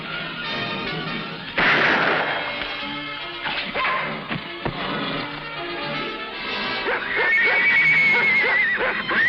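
Horses whinny and snort amid a busy, clattering scene, with sharp bangs and commotion; one clear neigh rises near the end.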